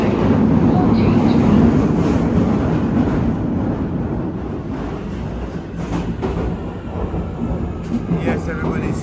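A London Underground train at Brixton station rumbles and rattles on the tracks, loud and close at first, then settling into a steadier clattering roll with brief squeaks and knocks, faint voices blending in beneath.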